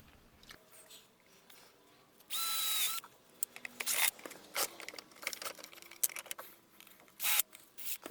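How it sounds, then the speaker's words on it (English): A power drill whirs in short bursts while boring a hole in a homemade reel for a 40-metre power cable, with a longer run early on and quieter scraping and handling sounds between. "drill a hole right there."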